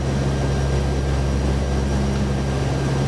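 Aircraft engines drone steadily at takeoff, heard from inside the cockpit of a plane flying above Greenland, a loud continuous low hum with no talk over it.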